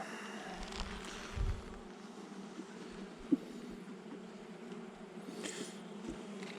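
A soft, steady buzz of bees hums through a quiet outdoor scene in the upper Var, France, in late March, with a brief faint thump partway through.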